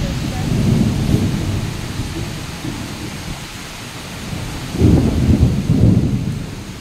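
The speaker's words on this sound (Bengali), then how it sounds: "আর তোমরা দেখে নাও কালকে ঝড় বৃষ্টিটা।" Thunderstorm with rain: deep rolling thunder rumbles twice, the second one louder, over a constant wash of falling rain, fairly close and loud.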